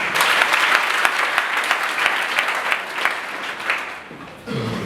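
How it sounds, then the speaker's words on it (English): A crowd at a student results celebration claps steadily for several seconds, the applause thinning and fading out near the end. "We need to give them another hand clap."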